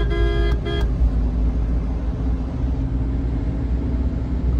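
Busy road traffic near the Rajokri flyover in the morning, with a steady rumble of cars and engines and two short car horn toots near the start, no talking.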